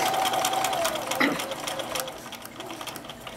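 A domestic sewing machine runs steadily, stitching a fabric potholder with a continuous rapid whirring hum and a brief pitched tone near the start.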